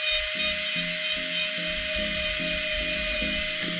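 High-speed rotary carving tool working a carving, a quiet steady whine with a rhythmic pulsing grind as the bit bites in and lifts off, close by with no talking.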